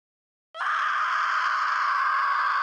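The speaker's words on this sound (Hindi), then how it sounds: "लिसा अपने अंदर से एक दर्दनाक चीख" A woman's long, loud, agonised scream in the 2017 film Monolith, bursting out of silence and held steadily to the end.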